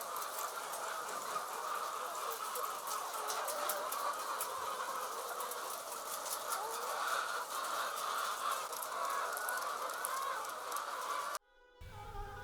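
Chickens in a layer poultry farm cluck and chatter continuously, a dense, steady flock din that holds throughout before cutting out abruptly near the end.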